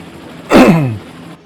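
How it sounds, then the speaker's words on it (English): A man clears his throat once, a single short rasping burst up close, with quiet surroundings before and after. "excuse me, I've got a cough hard"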